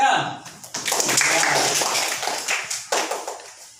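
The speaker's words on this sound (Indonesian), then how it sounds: "Baik, tepuk tangan." A schoolroom class claps together, a burst of many hands at close range that swells, holds for a couple of seconds, then thins into scattered claps, with voices talking over it.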